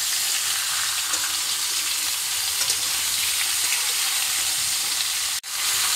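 Mango pieces for a sweet-sour-spicy mango pickle stirred in a pan, giving a steady, loud frying sizzle with faint stirring scrapes throughout and a brief dropout near the end.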